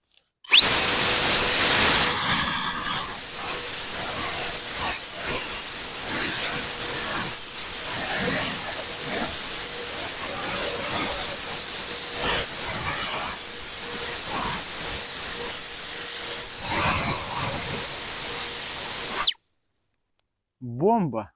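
A PROFI-TEC PTF1000BL POWERLine cordless leaf blower runs loud and steady for nearly twenty seconds, its high whine and rushing air blasting pine cones off concrete, then cuts off sharply into brief quiet.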